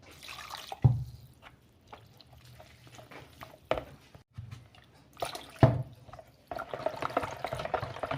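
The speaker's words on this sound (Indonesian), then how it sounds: "lalu masukkan sedikit demi sedikit santan cairnya sampai rata ya. Ini kita aduknya." Liquid coconut milk is poured into apem batter as it is stirred in a bowl, giving soft intermittent splashes, drips and wet scraping knocks, close and fairly quiet.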